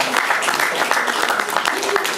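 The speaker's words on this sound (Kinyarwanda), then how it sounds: "ndumva mwakwiha amashyi" An audience applauds at a Rwandan poetry awards event, a steady patter of many hands clapping at moderate volume with a voice speaking over it.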